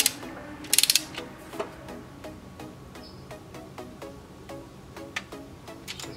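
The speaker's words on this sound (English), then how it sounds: "Number two, 22 foot-pounds, just till it clicks." A torque wrench tightens bolts on a Toyota 7AFE engine, giving quick bursts of close ratchet clicks followed by sparse single clicks and light metallic ticks.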